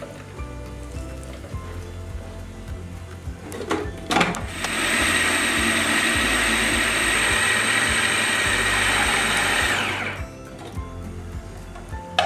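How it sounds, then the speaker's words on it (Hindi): An electric chopper grinds cooked mutton for shami kebabs, a loud, steady motor whir lasting about six seconds, with quieter kitchen sounds before and after. "अब हम इसको चॉपर में डालेंगे।"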